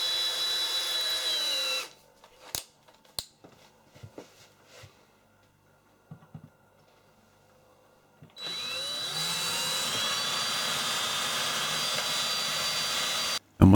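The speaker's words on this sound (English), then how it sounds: "Start off with a quite small drill," A drill whines loudly, stops for several seconds of quiet knocks and clicks, then starts again with a steady high-pitched grind as a small bit drills a hole into metal.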